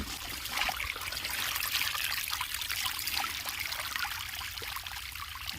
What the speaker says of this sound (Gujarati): જો પાણી ચાલુ થઈ ગયું છે